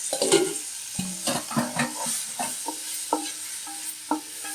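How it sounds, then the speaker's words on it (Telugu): Mint and coriander leaves fry in a pan for a prawn biryani, a low sizzle under a series of distinct metallic stirring clinks and scrapes, close and moderately quiet. "ఇప్పుడు ఇదిగోండి పుదీనా వేస్తున్నాను, కొత్తిమీర కూడా వేస్తున్నాను. ఇది కూడా కొంచెం ఫ్రై చేద్దామండి."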